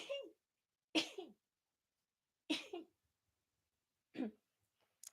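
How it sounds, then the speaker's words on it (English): Four short, sharp bursts, sneeze-like blasts of breath spaced a second or more apart, close and fairly loud, with silence between. "I think I'm going to sneeze"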